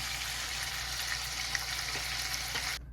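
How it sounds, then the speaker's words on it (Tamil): Meatballs pan-frying in oil give a steady, close, hissing sizzle that runs evenly and then cuts off abruptly at the end, with no talk. "எல்லாம் பொறிச்சிட்டேன் ஃப்ரை பண்ணிட்டேன் மீட் முழுக்க"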